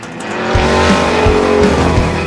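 Loud, close roar of the 2,000-horsepower engine in the 1969 Camaro race car, swelling quickly and holding a strong, steady drone, with a tire-squeal edge in the sound.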